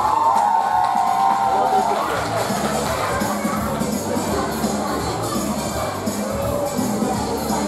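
Fans cheering at a ballroom dance competition, the Berdyansk Autumn Cup: a sustained roar of crowd whoops and shouts in a large hall, loud throughout, with a whistle-like tone at the start.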